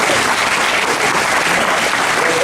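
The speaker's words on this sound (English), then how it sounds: "Let's give them all a round of applause" An audience at the 2025 Vintage Karting Hall of Fame inductions breaks into a full, steady round of applause, dense and loud throughout with a faint crowd murmur beneath.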